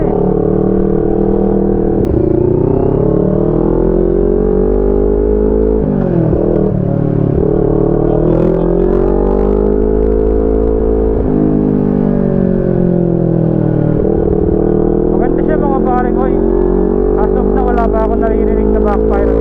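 A 2022 NK400 V4 motorcycle with an upgraded exhaust pipe idles and revs loud and bassy, throttle blips swelling and falling repeatedly over a steady deep rumble throughout.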